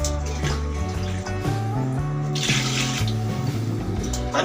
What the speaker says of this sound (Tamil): தண்ணி கரெக்டாக ஊற்று.